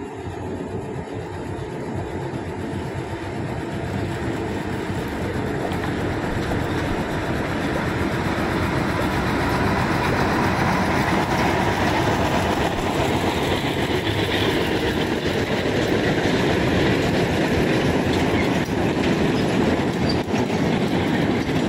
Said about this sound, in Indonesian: Ini dia kereta lori isian dengan lokomotif D5.